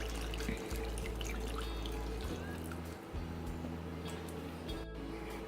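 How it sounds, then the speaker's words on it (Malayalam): Coconut milk poured into a pan of ripe jackfruit curry, a soft continuous liquid pour with light trickling over low background hum. "അപ്പോൾ നമുക്ക് തേങ്ങാപ്പാൽ ഇതിലേക്ക് ഒഴിച്ചു കൊടുക്കാം."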